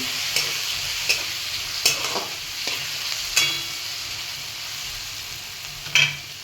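Onion, tomato, peas and turmeric fry and sizzle in a pan for Maggi masala, with a steady hiss broken by several sharp scraping stirs of a spoon at uneven intervals, close and fairly loud with no voices.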